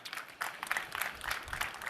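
Audience applause at a Cisco Live 2025 conference session as a presenter named Guru comes on stage, fairly faint and steady clapping from the crowd.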